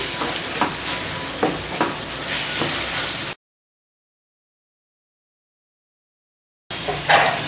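Drumstick leaves simmering with water in a pan for murungaikeerai poriyal, a soft steady sizzle and bubbling with a few stirring scrapes, broken by a stretch of silence before the cooking resumes.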